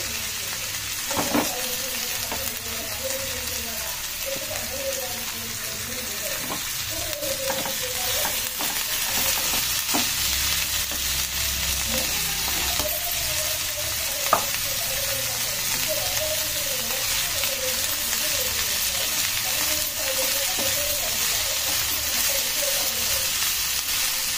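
Onions sizzling and being stirred in hot oil in a pan, a steady close crackle broken by repeated scrapes of the spoon, with a bit of quiet talk in the background.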